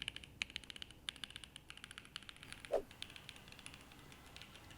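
Steady mechanical keyboard typing, crisp clicky keystrokes in a fast irregular rhythm, close and fairly quiet, with one brief higher creak partway through.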